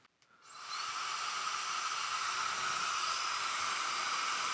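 Hair dryer's fan switched on and running steadily at a constant loud hiss, drawing power from an Anker 757 PowerHouse 1229Wh 1500W portable power station, starting after a brief click.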